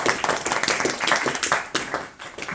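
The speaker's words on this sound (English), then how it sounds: "Give a round of applause." Small family group at a Bhagavad Gita devotional gathering claps for a birthday celebrant, a close, sparse round of individual hand claps with distinct uneven beats rather than a dense roar.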